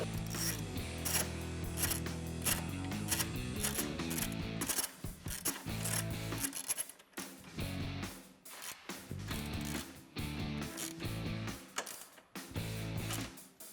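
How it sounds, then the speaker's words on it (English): Rapid ratchet clicking from a socket wrench fitted with an 8mm socket, loosening the last bolt on a 2018-2020 Ford F150 grille assembly; steady bursts of close, loud clicks with short pauses between turns, no talking. "And don't forget to grab your 8mm socket for that last bolt."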